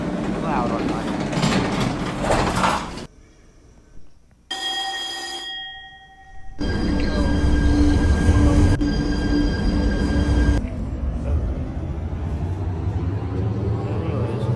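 A train in a video game heard in sections: rumbling rail noise, a bell-like ringing tone, and steady mechanical hum, broken by abrupt cuts and quiet gaps, with people talking over parts of it.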